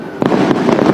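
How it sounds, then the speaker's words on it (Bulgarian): New Year's midnight fireworks burst in a loud, continuous barrage of booms and crackles, dense and close, with no pauses and no voices. "Мале, каква хубава заря!"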